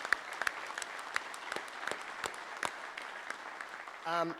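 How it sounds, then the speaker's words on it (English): An audience at a union industry day claps in scattered, uneven applause, individual sharp claps standing out in a thin crowd, before a voice cuts in at the end. "there needs a round of applause"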